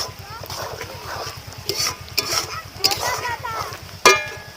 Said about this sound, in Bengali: সমস্ত মশলাটা কষে দিয়ে দিচ্ছি আদা বাটা।